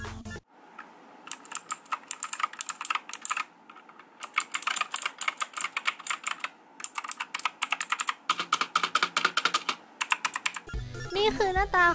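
Rapid close-up typing on a Signo KB-798 gaming keyboard with optical switches, crisp clicky keystrokes in quick bursts and short pauses, ending in a few seconds of other noise.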